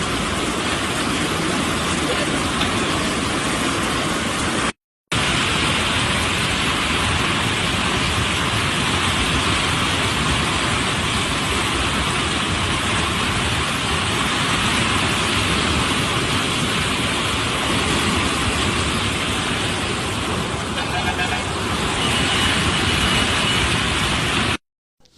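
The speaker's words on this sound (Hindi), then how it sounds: "ज़बरदस्त बारिश के बाद ये सूरत हाल है मूसाराम बाग में ज़ेर तामीर ब्रिज के पास। पानी सड़क के ऊपर से बह रहा है।" Floodwater pours over a road near a bridge under construction at Musarambagh in Hyderabad after heavy rain, a loud continuous rushing roar like a waterfall, broken by a brief cut.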